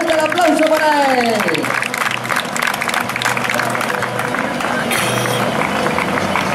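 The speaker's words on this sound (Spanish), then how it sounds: "fuerte el aplauso para él" Crowd applause for a runner at a popular charity race finish in Gijón, a steady wash of clapping and cheering under a male announcer's voice, loud and continuous throughout.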